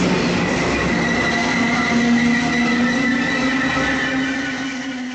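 Inside a moving railway passenger train: a loud continuous rumble and rush of wheels on track with faint tonal whines, steady throughout and easing slightly at the end.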